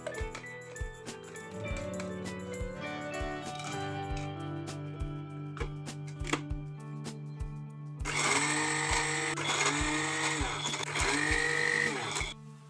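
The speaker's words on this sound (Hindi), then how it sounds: "बिस्किट को ग्राइंड कर लेते हैं और इसे पाउडर फॉर्म में कर लेते हैं" An electric grinder or chopper whirs steadily as it grinds biscuits into powder, with a harsher, louder rattling stretch toward the end.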